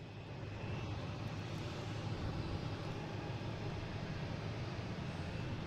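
An Alaska Airlines airliner departing Boston Logan gives a steady, distant jet roar, a broad continuous rumble with no talking over it.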